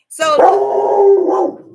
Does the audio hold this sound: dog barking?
yes